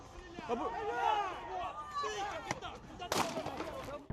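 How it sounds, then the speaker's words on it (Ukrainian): A couple of sharp, loud gunshots burst out amid agitated shouting voices and crowd noise outdoors on the Dnipro riverbank. "Дивіться, стріляє!"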